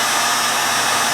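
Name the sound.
heat gun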